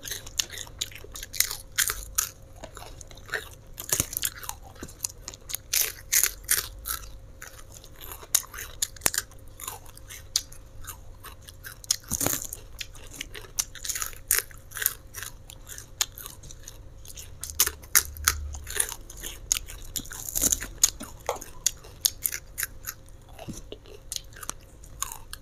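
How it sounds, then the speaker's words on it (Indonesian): Steady crunchy chewing of crispy fried salted fish close to the mic, repeated crisp bites and munching over about twenty-five seconds, with no talking. "Ikan asin guys, renyah, crispy."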